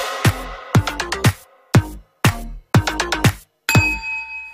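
A bright notification bell ding repeats in quick clusters of sharp, ringing strikes separated by short silences, close and clear with no talking.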